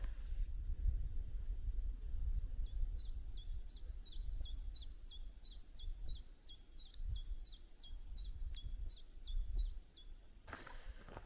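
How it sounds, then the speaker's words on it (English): Chiffchaff singing in a quiet Scottish forest, a steady run of repeated sharp high two-note chips at moderate distance over faint low rumble, ending abruptly. "Chiff chaff."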